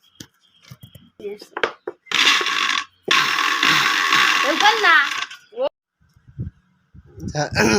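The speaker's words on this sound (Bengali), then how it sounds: "এই যে ব্লেন্ডার মেশিন ফিট করলাম।" An electric blender fitted for making a sherbet drink whirs loudly in two continuous bursts of a few seconds each, a steady high motor drone with a brief stop between, surrounded by clicks and clattering of the machine being handled.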